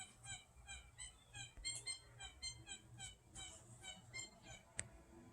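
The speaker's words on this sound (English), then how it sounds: "Hear the birds singing." Birds chirp and call repeatedly in a steady outdoor chorus, bright overlapping songs with a low rumble of background noise underneath.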